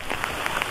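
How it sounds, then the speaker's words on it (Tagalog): Heavy rain drums steadily and loudly at a campsite by a tent and cottage, a dense continuous hiss broken by brief louder splatters, with no talk over it. "Napakalakas ng ulan."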